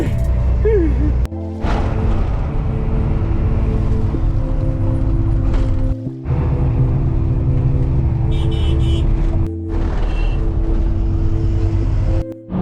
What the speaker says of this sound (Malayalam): ലോറിയിലാണ് നമ്മൾ പോകുന്നത്